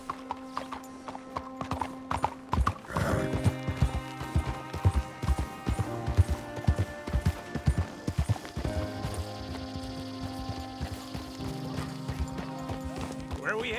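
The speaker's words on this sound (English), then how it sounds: "You got a horse? Get on it." Horse hooves clip-clop at a riding pace in Red Dead Redemption 2, with steady rhythmic strikes close up over a sustained musical score, plus an occasional snort or whinny.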